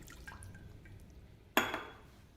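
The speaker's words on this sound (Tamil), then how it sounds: "வெல்ல கரைசலை சேர்த்துக்கலாங்க." Jaggery syrup, boiled and strained, is poured into rice flour for sweet pidi kozhukattai, giving one short, close liquid splash partway through against a quiet kitchen background.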